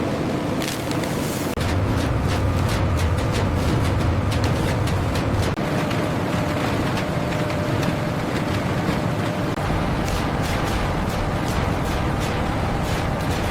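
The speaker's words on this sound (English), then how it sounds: "Rotating blades and rollers break down the stem while carefully pulling out long, continuous fibers" A banana stem fibre extraction machine with rotating blades and rollers runs steadily, giving a dense, continuous mechanical rumble and whir with rattling, grinding texture throughout. The low end swells for a few seconds in the middle.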